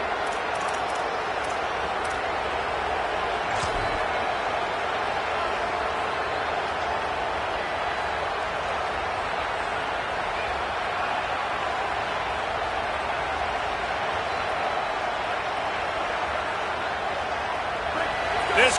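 Stadium crowd at a Penn State football game against Oregon, a steady dense roar from a large audience that holds level throughout, with a commentator talking over it.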